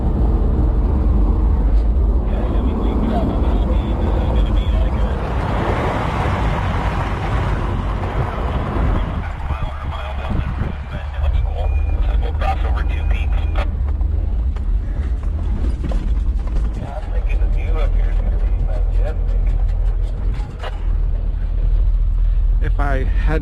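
A stock Suzuki X-90 rolls along a rough two-track off-road, its engine a low steady drone mixed with creaks and rattles of the body and suspension, while someone talks over it.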